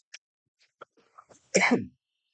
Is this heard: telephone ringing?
no